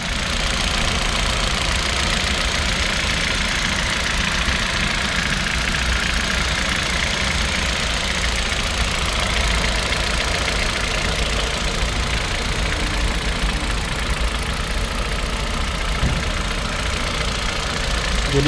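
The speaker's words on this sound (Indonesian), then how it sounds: "Nah, ini kondisi mesin hidup" A 2015 Kia Rio idling outdoors, its engine holding a steady, even hum with a low rhythmic knock running continuously throughout, close and fairly loud with no talk over it.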